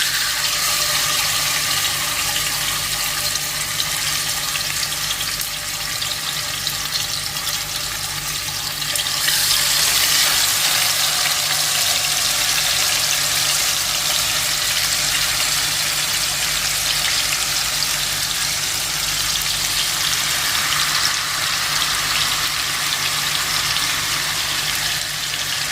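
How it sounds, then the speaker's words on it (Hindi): Marinated chicken sizzles in hot oil in a pan for Kolkata restaurant-style chicken chaap, a steady, loud, hissing crackle that continues without pause. "अब चिकन को उलट पुलट के ज़रा फ्राई कर लेंगे हम इसी में"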